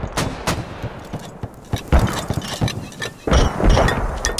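A huge mortar barrage in the military shooter game Squad, with rapid overlapping bursts of firing and booming impacts, loud and close, forming a chaotic irregular volley that intensifies toward the end.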